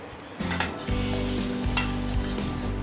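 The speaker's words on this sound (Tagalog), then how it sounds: "Yan, imimix natin to. Halo-haloin lang natin." Flour, cornstarch and spices are mixed in a bowl, making scraping, stirring and knocking sounds that run continuously and close by.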